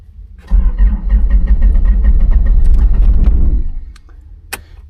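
A diesel tractor engine that sat cold for a week and a half cranks over, a loud close rhythmic chugging of the starter for about three seconds, then cuts out into quiet without catching.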